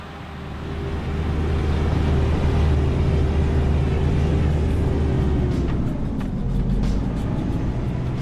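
A 4x4 climbs a steep mountain hill in first gear low range, its engine droning loud and steady throughout with a gradual shift in pitch toward the end.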